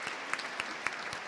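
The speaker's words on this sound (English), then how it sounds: "let's clap it up for that." Light, rhythmic clapping from a few people on a podcast set, with sharp, regularly spaced claps over a soft, steady background.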